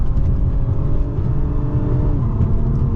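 A 2024 Acura TLX Type S with all-wheel drive is driven hard through corners, its engine holding a steady loud hum with a rising and falling whir as it takes the turns, heard from inside the car.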